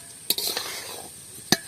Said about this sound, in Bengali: এবার আমি এটাকে ভালো করে নেড়ে চেড়ে মিশিয়ে নেব।